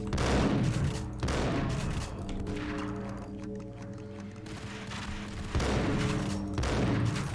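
Enemy gunfire in a video game: loud, dense bursts of rapid shooting in waves, easing in the middle and surging again toward the end.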